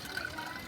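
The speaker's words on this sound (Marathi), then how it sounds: "इथे एवढ्या माशा असताना मी न घाबरता या ठिकाणी हात धुतो आहे" Water running from an outdoor tap as hands are washed beneath it, a faint steady splashing hiss lasting under a second.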